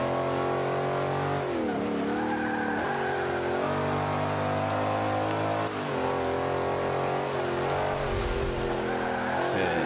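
Ford GT500 race car in Forza 5 roaring at full throttle, its engine harmonics rising and falling through gear changes and a climb, loud and continuous throughout with no talk.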